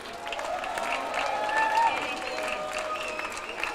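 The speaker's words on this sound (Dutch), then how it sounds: "Mogen we een groot applaus voor Huub Oesten." An audience applauds a trumpeter after an orchestra performance, a diffuse crowd clapping with murmured voices and cheering mixed in, while tonal sounds ring faintly underneath.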